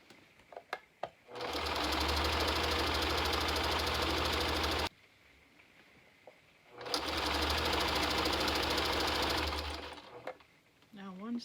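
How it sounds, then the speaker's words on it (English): A sewing machine stitches two fabric heart pieces together in two long, steady whirring runs separated by a short pause, loud and close, with a few faint handling clicks around them. "Now I'm going to go ahead and start sewing the two pieces together."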